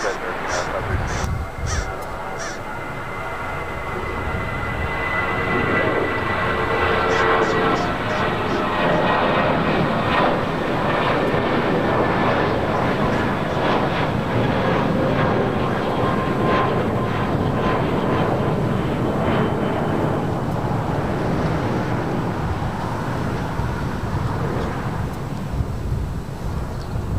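Jet airliner at LAX airport: a loud, sustained engine roar building and holding for most of the stretch, with crows cawing nearby and radio voices talking over it.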